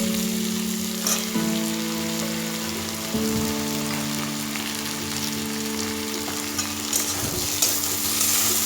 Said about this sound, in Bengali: প্রায় ভাজা হয়ে গেছে, আমি এবার বেগুনটা দিয়ে দেব।